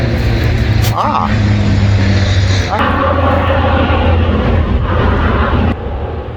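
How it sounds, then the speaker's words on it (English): An airplane passes overhead at a graveyard, a loud continuous engine roar that dips partway through, with an abrupt thump near the start and voices briefly talking over it. "Plane."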